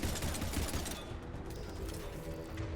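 Turret being shot in Mass Effect Legendary Edition, a dense burst of rapid gunfire that is loud through the first second and then continues more thinly as steady rattling.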